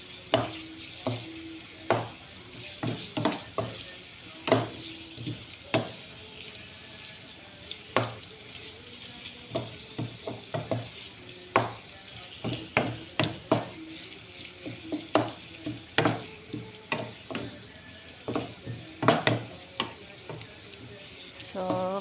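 Béchamel pasta with beef being stirred in a pan, a spoon scraping and tapping against the metal in an irregular series of sharp knocks over a soft sizzle, close and fairly steady.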